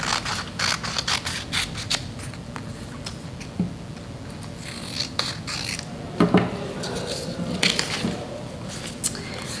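Scissors cutting adhesive paper to size for a craft project, a series of crisp snips and rustling rubs with irregular pauses, close and clear with no talk.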